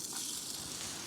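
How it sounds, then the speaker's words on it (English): Soft, steady sizzling of Lorne sausages frying in a pan at a campsite, a continuous crackling hiss heard on its own and fairly quiet. "Ah, listen to that sizzle."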